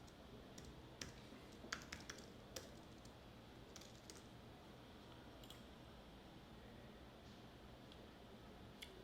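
Quiet typing of a search query on a computer keyboard, irregular soft key taps in small clusters, close but faint over steady background hiss, with no talking.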